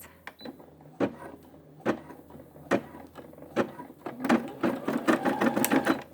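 A Brother SE600 embroidery machine stitches a quilt, first with a few separate mechanical thumps at regular intervals, then settling into a steady, close, rapid rhythmic stitching hum.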